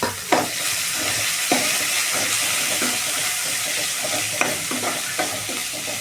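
Onions, fennel seeds and curry leaves sautéing for a chicken curry, with a continuous close sizzle broken by several sharp scrapes and clatters of a stirring spoon.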